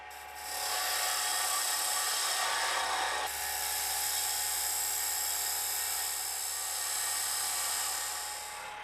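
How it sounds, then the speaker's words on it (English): A wood lathe turns a box lid while a box cutter shapes it, producing a continuous, high whining scrape that holds steady for several seconds with a brief shift in tone partway through. "Using the box cutter again, we will now shape the lid and remove as much of the tenon as safely possible."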